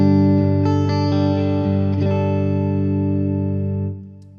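A clean single-coil electric guitar rings out through an amplifier with a compressor pedal disengaged, a few plucked notes and a sustained chord decaying smoothly, loud and close, with no talking.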